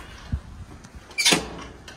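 A school entrance door opens after the visitor is buzzed in: a low thump, then a short airy swish as the door moves, heard fairly close in a quiet hallway.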